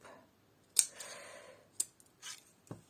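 Scissors snipping ribbon, a few separate quiet cuts with short gaps between them, near and alone with no talk.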